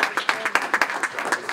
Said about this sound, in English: Please note the applause was for him.